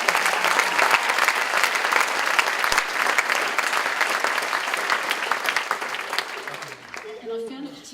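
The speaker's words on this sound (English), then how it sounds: "Can we give them a clap though?" A crowd at a 2018 St Hilda's graduation ceremony applauds, sustained and full for several seconds before tapering off as a speaker's voice returns at the end.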